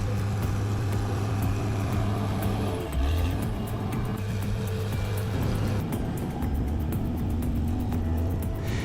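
A bulldozer clearing dense vegetation and grading an overgrown hillside slope, its diesel engine giving a steady, heavy rumble that shifts in pitch partway through, with faint clanks on top.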